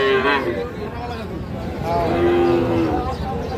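Sahiwal breed bull calves moo at a busy cattle market in Ghoraghat, Dinajpur, with two drawn-out calls standing out against crowd noise and someone speaking.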